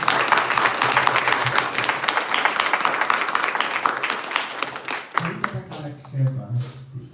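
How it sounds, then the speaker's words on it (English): An audience at a Harikatha kalakshepa program breaks into dense, sustained clapping for about five seconds, filling the hall, then it fades as voices and talking take over. "Can we clap one more time for that?"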